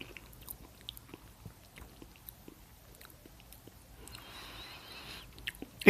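Someone bites and chews a Cadbury Crunchie honeycomb biscuit with a thick chocolate layer, producing sparse, faint crunchy clicks close to the mic, with a brief burst of louder crackling near the end.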